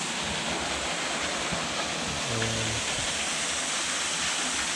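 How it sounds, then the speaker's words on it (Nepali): A small waterfall on a nature walk pours with a constant, dense rushing roar close by, unbroken throughout with only a faint low thud in the middle. "यो चाहिँ सानो झरना छ।"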